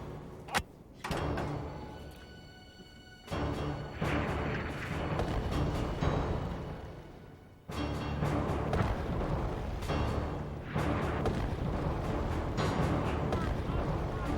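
Artillery guns fire rounds at a target during a firing competition, with sharp booms at the start and around the 3- and 7-second marks, each followed by lingering rumbling noise, fairly distant and moderate in level.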